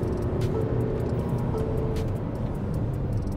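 A 2025 Tata Harrier cruising in fourth gear at about 120 km/h, heard from inside as a steady, loud engine drone mixed with road and wind roar, with no talk.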